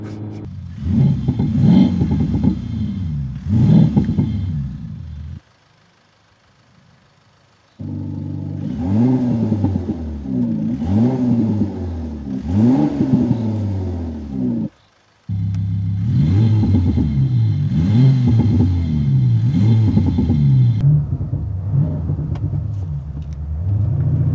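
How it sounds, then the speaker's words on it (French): A Mercedes CLA with Active Sound engine enhancement droning loudly from inside the cabin while driving, in three long stretches of rising and falling revs through gear changes, split by brief quiet gaps. "Notre essai de l'Active Sound sur la CLA touche à sa fin."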